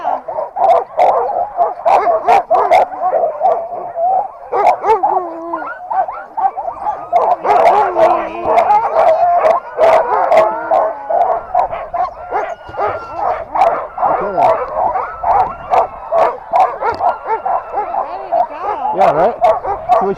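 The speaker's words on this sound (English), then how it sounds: "So many dogs." Alaska sled dogs bark, yip and howl in a dense, loud, nearby chorus, sharp barks punctuating continuous whining howls throughout.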